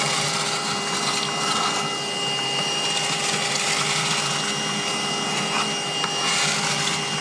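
A vacuum used near a beehive to suck up bees and insects runs as a steady, loud, close whine with a constant hum and faint fluctuations in suction, continuous throughout with no speech.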